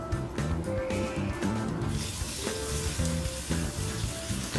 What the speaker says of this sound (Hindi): अब इसको बॉईल होने दीजिए।